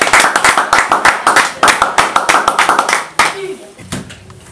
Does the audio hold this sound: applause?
yes